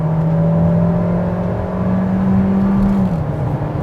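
2020 Kia Seltos with all-wheel drive driving in sports mode, a steady loud engine drone from inside the cabin with a held tonal note that drops slightly near the end, no talking.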